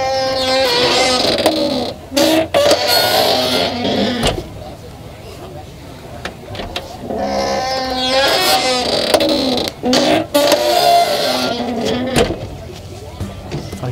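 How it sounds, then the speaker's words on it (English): Worn 18-year-old door hinges on a Land Rover Defender creak and groan loudly and close in long, drawn-out, Chewbacca-like squeals as the door is swung repeatedly, with brief pauses between strokes. "So this is what I call my Chewbacca door from Star Wars"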